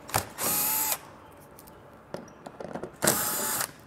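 A power tool backs out 7mm head screws along the underside of a 2023 Chevrolet Equinox front fascia: two short, loud whirring bursts close by, separated by faint clicks and handling noise.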